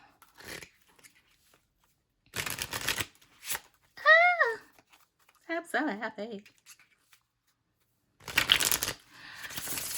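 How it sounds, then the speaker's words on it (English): Playing cards are riffled in several quick bursts separated by pauses, close up, with a person speaking briefly between them. "I'm gonna shuffle these cards"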